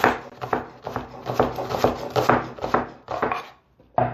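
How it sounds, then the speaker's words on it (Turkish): Repeated knife chops through onions on a cutting board in a quick, uneven rhythm, close and fairly loud, with a short pause before a final chop. "Soğanları doğrayarak devam edelim. Soğanları biraz iri doğruyoruz."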